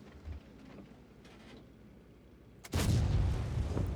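A tank gun fires in World of Tanks: a single loud, heavy boom bursts out suddenly after quiet ambient battlefield noise and rumbles on with a long, dense decay.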